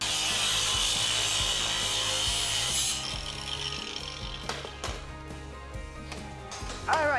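An angle grinder cuts through a steel D-lock with a loud, continuous whining grind whose pitch shifts partway through. Scraping and rattling accompany it, and no voices are heard.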